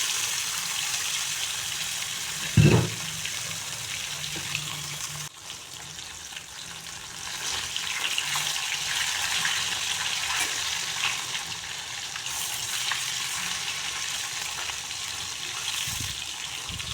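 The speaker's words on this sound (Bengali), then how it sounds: "এখন আমি মাছগুলোকে ভেজে নেব।" Pieces of katla fish frying in hot oil in a pan, a steady broadband sizzle running throughout with one brief louder clatter near the start.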